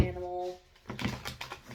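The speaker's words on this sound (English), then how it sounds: "We're going to shuffle off a few last times" Tarot and oracle cards from a combined deck being shuffled, a quick run of light papery riffles and taps in the second half, close to the microphone after a brief quiet moment.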